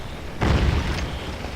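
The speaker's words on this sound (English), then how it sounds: "Sound of shrapnel." A shrapnel shell bursts in the Napoleonic-era battle game Scourge of War, a sudden loud boom at about 0.4 seconds that rumbles on as a broad, sustained blast through the rest of the moment.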